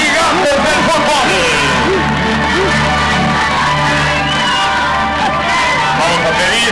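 Packed crowd at a youth football final in Mexico cheering, shouting and whooping in a dense, loud, continuous roar, with children's voices mixed in.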